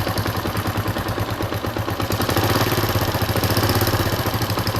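A Suzuki GN125 sidecar motorcycle engine idles with a steady rapid putter, rising slightly in pace midway as the choke is adjusted; close and loud, with a loose exhaust and a crankcase leak, no talk.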